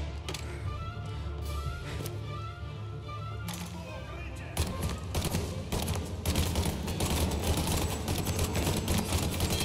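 Gunfire from the Mafia Definitive Edition game: scattered shots at first, then dense rapid bursts of sharp cracks in the second half, with a voice heard along with the shooting.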